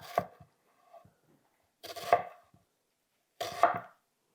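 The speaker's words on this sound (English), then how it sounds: "Now I'm going to follow the lines of the onion." A knife slices through an onion on a cutting board in three separate, crisp strokes spaced about two seconds apart, close by, with quiet pauses between them and no talking.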